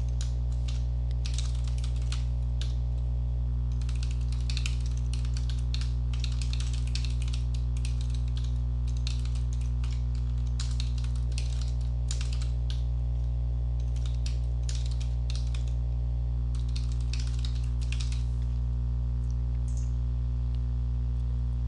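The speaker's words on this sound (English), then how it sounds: "you can just type in a bunch of text." Typing on a computer keyboard, uneven bursts of soft clicks and taps over a steady low electrical hum, moderately close with no talking.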